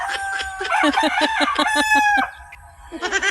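Chickens cluck in quick, rhythmic bursts while a rooster crows loudly up close, then the clucking picks up again.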